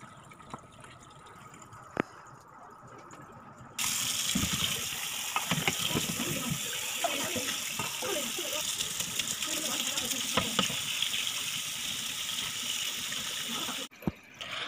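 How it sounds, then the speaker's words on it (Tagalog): A pot of water boils for blanching chicken feet, a continuous rushing, watery noise filling most of the recording after a quieter start, with occasional clinks and knocks over it. "magpapakulo lang ako dito ng tubig."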